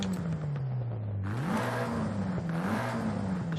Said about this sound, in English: The exhaust sounds pretty cool